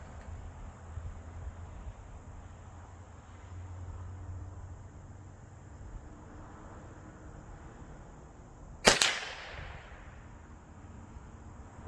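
A single sharp shotgun-style blast during a turkey hunt outdoors, loud and sudden after a long stretch of quiet insect-filled ambience, followed by a short echoing decay.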